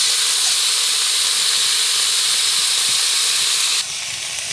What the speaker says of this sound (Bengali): এভাবে ভাজতে হবে